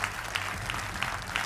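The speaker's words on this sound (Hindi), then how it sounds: "तालियों के साथ स्वागत कीजिए" A studio audience on a Hindi television debate show applauds in a brief, steady wash of clapping with faint rhythmic pulses.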